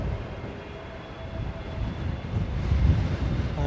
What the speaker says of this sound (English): Inbound, we have Jet2 Holidays with what I think is an A321.